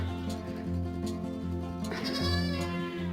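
A goat bleats loudly and insistently in long, wavering cries, close by, with a second burst of harsh bleating near the end.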